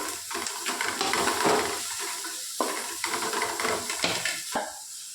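A large onion frying in hot oil with shallots, crackling in a loud, close sizzle while a spoon stirs through it in repeated scraping strokes.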